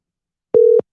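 A single steady telephone busy-signal tone on a phone call sounds once, loud and clear, for about a quarter second and then stops, with silence before and after.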